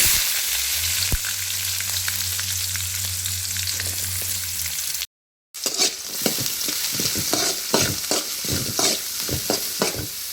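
Onions fry in oil over mustard seeds, cumin and curry leaves with a constant close sizzle; after a brief break, spatula stirring adds repeated scraping strikes against the pan.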